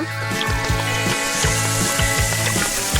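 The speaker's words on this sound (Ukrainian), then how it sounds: "А ще до мармеладних ведмедиків я залю цю смачну фанту." Fanta orange soda is poured over gummy bears in a blender jar, a steady fizzing splash of liquid running for several seconds beneath upbeat background music.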